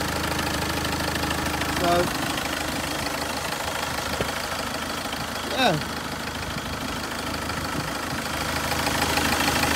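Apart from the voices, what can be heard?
Peugeot 206 2.0 HDi diesel engine running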